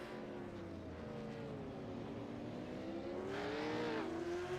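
A Ford Mustang race car in iRacing at Laguna Seca's corkscrew, its engine droning steadily with a rising and falling pitch, then swelling louder with a hissy tire-scrub edge near the end; no voices.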